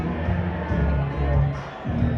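A fight-night arena crowd cheering and roaring in a loud, continuous swell as a boxer in the blue corner walks out to his chosen song, with voices and music mixed into the din.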